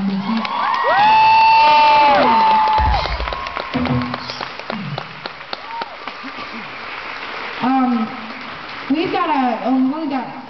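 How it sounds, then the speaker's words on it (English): A theater concert audience claps, cheers and whoops loudly for a band member, with shrill cries riding over the crowd noise before it settles and a voice talks over lingering scattered cheers. "So give him an extra round of applause"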